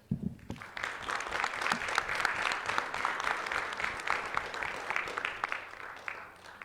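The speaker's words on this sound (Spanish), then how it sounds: "dándole un gran aplauso por eso" Audience applause at a weekly church-style assembly, a dense steady wash of many hands clapping that swells in quickly and carries on evenly for several seconds at moderate distance.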